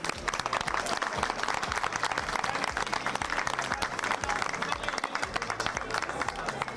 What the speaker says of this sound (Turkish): Alkışlarımız Aydemir abiye lütfen